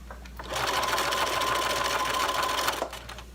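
A sewing machine runs in one steady burst of stitching through quilt fabric, a quilt-as-you-go project with a quarter-inch seam taken along the fabric edge, loud and close for a couple of seconds before it stops.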